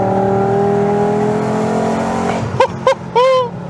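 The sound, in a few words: Volkswagen Golf VR5 engine revving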